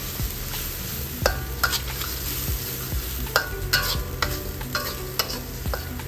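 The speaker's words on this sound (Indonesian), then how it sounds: "Kemudian kita aduk merata." Whole spices sauté over low heat in a pan for a Soto Medan spice base: kaffir lime leaves, cardamom, cinnamon, cloves and star anise. A soft steady sizzle runs under repeated sharp scraping strokes of a stirring spoon.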